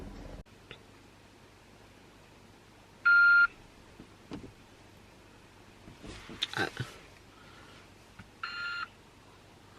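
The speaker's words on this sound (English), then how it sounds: "I heard this weird beeping, and I was like, what, "Is this the hold button?"" Two short electronic beeps of a phone call on hold, spaced several seconds apart over quiet background noise, with faint rustling and a brief murmur between them.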